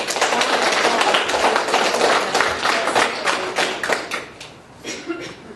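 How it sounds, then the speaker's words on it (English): Townhall meeting audience at Christina Lake applauding, a dense sustained burst of clapping that swells then thins out toward the end. "applause"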